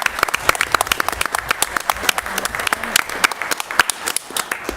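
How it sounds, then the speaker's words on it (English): Sustained applause for students at a school committee meeting, dense overlapping claps at a steady loud level throughout, with a faint voice briefly underneath. "I'd like to give a round of applause to our students"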